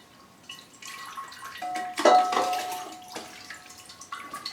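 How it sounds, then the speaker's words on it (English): Water is poured gently over bark mix in a large Cymbidium orchid pot, making soft trickling splashes and a few drips that swell briefly, then settle to a quiet patter. "it's heavy and the water washes half the bark off, and I have to just pour it in very gently"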